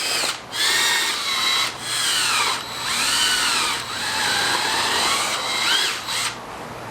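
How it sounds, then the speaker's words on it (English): A power drill whines loudly in several bursts, drilling holes for Teraflex rock sliders on a Jeep, its pitch rising and falling as it bites into material, with brief pauses between runs. "So now what we need to do is we need to drill all these out real quick"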